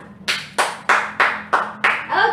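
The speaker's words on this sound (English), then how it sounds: "So class, let us have a round of applause to Miss Ariana." A school class applauding after a student's demonstration lesson: several distinct, evenly spaced bursts of clapping ring out fairly close and loud, with no talking over them.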